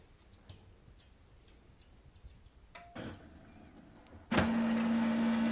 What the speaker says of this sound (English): The printer will take page by page your document.